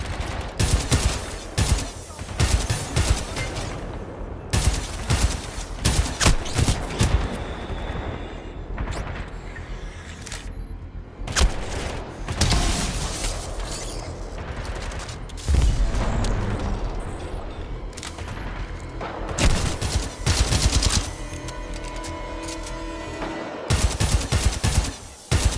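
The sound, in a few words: sniper rifle gunfire in a video game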